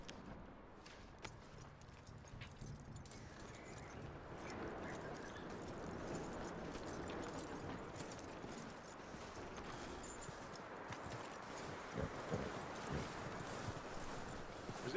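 Horse hooves clip-clop steadily on the ground in Red Dead Redemption 2, a continuous rapid patter under faint wind and ambient noise, fairly quiet and even throughout.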